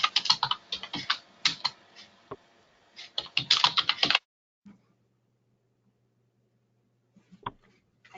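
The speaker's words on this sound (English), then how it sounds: "I hear someone typing away" Rapid typing on a computer keyboard during an online small-business meeting, a close burst of clattering keystrokes for about four seconds, then near silence with a couple of faint clicks.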